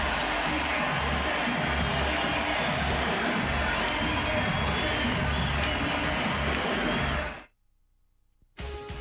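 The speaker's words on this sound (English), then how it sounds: "And this crowd is alive." A loud, dense roar from a packed basketball arena at a 2002 Lakers vs Kings NBA playoff game fills about seven seconds, then cuts off abruptly into near silence before briefly returning.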